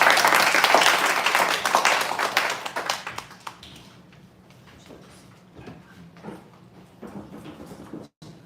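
A church congregation claps in a burst of applause that fades over a few seconds, leaving scattered taps and quiet room noise.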